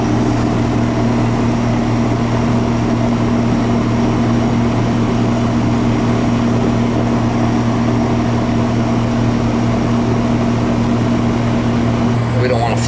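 An old air conditioning system that has never been serviced runs poorly, its coil icing up, giving a steady, close droning hum with strong low tonal bands throughout.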